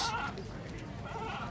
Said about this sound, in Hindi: ये भी बड़ा बकरा है।